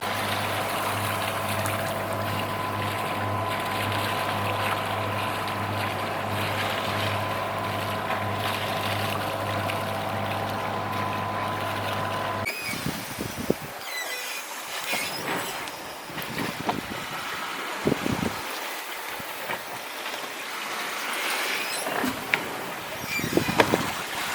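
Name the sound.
wind blowing while sailing a Leopard 45 catamaran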